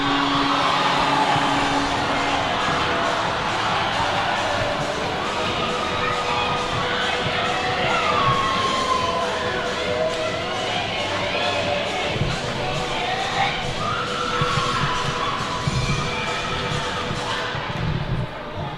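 A high school basketball game between St. Paul's Big Red and Proctor Academy, with a packed gym crowd cheering and shouting steadily throughout, loud and continuous, with thumps of the ball and sneakers mixed in.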